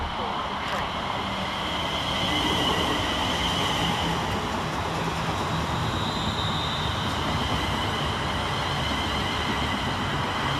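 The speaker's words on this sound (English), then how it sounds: "Here comes the final train of the session" An electric multiple unit train rumbles past close by at Milton Keynes Central station, a steady roar of wheels on track and a faint high whine, continuous throughout.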